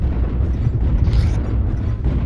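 Video game airstrike: continuous heavy, loud explosion rumble with rolling booms blending together over a couple of seconds, no speech.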